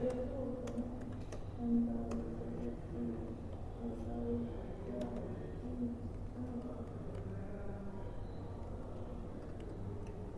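Fingers type on a computer keyboard while HTML code is written, a steady stream of soft, close key clicks running under a man's continuous speech.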